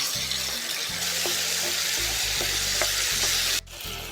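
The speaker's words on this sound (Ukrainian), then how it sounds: "І відправляємо наші перетерті помідори." Grated tomatoes hit a hot pan for shakshuka, giving a loud, steady frying sizzle with stirring scrapes throughout, then a sudden drop in level near the end as the sizzle settles.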